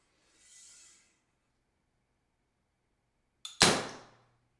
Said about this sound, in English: Keep pulling until you hear a click and cut it loose.